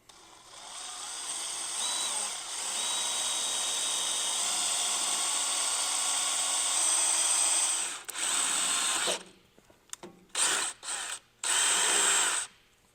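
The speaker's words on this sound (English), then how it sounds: "We're going to drill those right on the 2 marks that we just made in the previous step." A power drill bores 5/32-inch holes into the metal body of a 5th-gen Toyota 4Runner, a sustained high whine for about eight seconds followed by several short stop-start bursts, close and loud.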